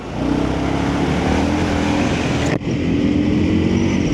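An Indian Scout 101 cruiser's 1250cc engine revs loud and close in a steady sustained drone, with a brief dip just after the midpoint before the revs pick up again.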